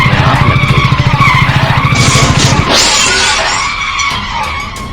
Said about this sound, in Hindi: बाइक की ब्रेक अपने आप लग गई।